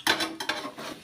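A spoon scrapes and clinks against a cooking pan while masala paste with turmeric and salt is mixed, in a few quick, close strokes with no talking.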